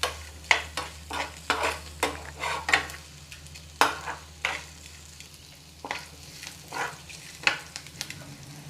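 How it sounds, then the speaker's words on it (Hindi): Onions frying in a pan for tomato rice while a spoon stirs them, soft sizzling under a steady rhythm of scraping strokes against the pan, near and fairly quiet. "एबे प्याजटा भाजी हो गलान।"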